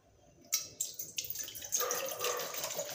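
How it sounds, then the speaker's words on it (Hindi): Water poured into a container to make a jaljeera mix for golgappa, starting with a few splashes then a steady close trickle, faint and without talk. "सबसे पहले डालते हैं पानी जो जिसका मिक्सचर बनता है"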